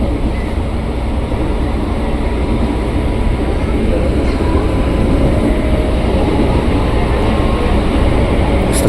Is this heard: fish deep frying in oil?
no